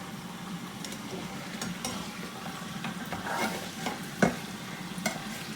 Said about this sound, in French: De le frire avec une petite marmite.